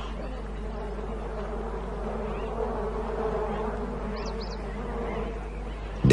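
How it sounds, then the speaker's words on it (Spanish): Bees swarm around a waterhole during hot weather, giving a steady, dense buzz that holds throughout, with a few faint higher calls in the background. "Intenta beber de un pozo, pero está lleno de abejas."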